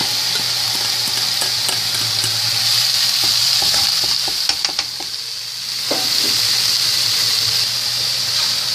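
Sliced squash and zucchini going into a hot pan over already-cooked peppers, onions and mushrooms with chicken; a steady, loud sizzle with stirring scrapes and a few brief clatters, no talking.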